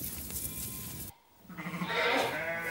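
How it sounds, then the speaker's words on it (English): A newborn lamb of a local sheep breed in France's Lot region bleats once, loud and close, after a windy outdoor background and a brief lull. "This is the youngest of the flock."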